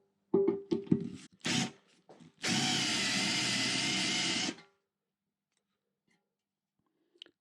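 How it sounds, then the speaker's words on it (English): A power drill bores out spot welds on a steel rear mudguard from a Royal Enfield Meteor / Classic 350. A few sharp clicks and short bursts are followed by one steady whirring run of about two seconds, then near silence. "Let's drill all 4 out a bit and then we'll have a look."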